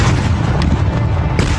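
Ammunition being destroyed in a detonation pit goes off as a loud, dense boom that fills the whole moment with heavy low rumble and crackle, with no speech over it.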